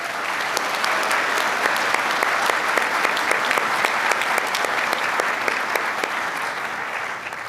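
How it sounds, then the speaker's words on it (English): Sustained applause from a large audience at a fall community college commencement ceremony, a dense, even roar of many hands clapping that fills the hall at steady loudness before easing slightly at the end. "Let's give them a round of applause."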